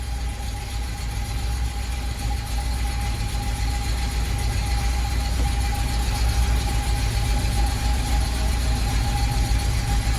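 A 1981 Oldsmobile Delta 88 engine idling steadily with a working choke, a loud, even rumble with a constant hum over it, holding the same level throughout with no voices.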